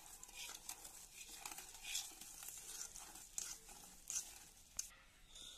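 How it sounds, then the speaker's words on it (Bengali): Milk being mixed a little at a time into cake batter in a bowl, heard as continuous wet stirring and scraping, close and fairly quiet, with occasional light clinks and no speech. "অল্প অল্প দুধ দেবো, মেশাতে থাকবো।"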